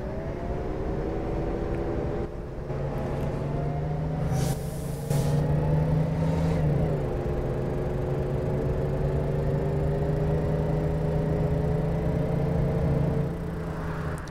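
In the OMSI 2 bus simulator, a Volvo B59 bus engine drones steadily at moderate volume. The pitch rises gradually and dips briefly, with a short hiss and clunk partway through. No one speaks.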